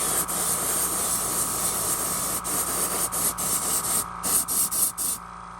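Spray can misting silver sealer onto the belly of a big-belly swimbait lure, a loud close hiss held steadily, then broken into several short bursts near the end.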